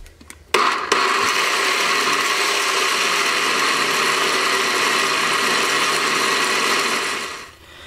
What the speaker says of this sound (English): Go ahead and close this up, and then we'll start blending.